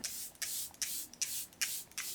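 Charlotte Tilbury hydrating setting spray, a skin refresher mist, sprayed in a series of about seven short, airy hissing bursts spaced evenly and close by, fairly soft, with no talking.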